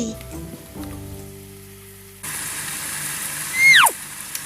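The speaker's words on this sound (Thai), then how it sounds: "ก็ผัดให้ดอกแคฝรั่ง ยุบ นะคะ" Barbados cherry flowers stir-fried in a pan, with a steady hiss of sizzling that starts abruptly partway through, preceded by quieter clinking and a brief squealing scrape near the end.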